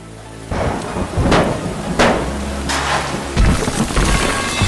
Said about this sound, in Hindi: बारिश की बूंदें इस शांत निर्माण स्थल पर गिर रही हैं